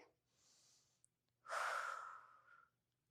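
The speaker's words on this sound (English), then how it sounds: "One more deep breath here." A deep breath during a yoga stretch: a soft breathy inhale, then a louder, longer exhale with a slightly voiced, sighing edge, close to the microphone and otherwise quiet.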